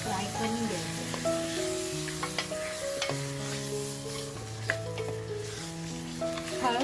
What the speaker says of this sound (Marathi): मटण आपल्याला छान असं फ्राय करून घ्यायचं.